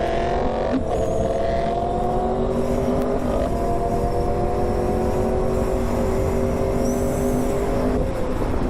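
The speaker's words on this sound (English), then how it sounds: "Watch out, car." A car passing close by a cyclist riding on a road, its engine note and tyre roar loud and steady, the pitch sliding downward as it goes past amid wind noise.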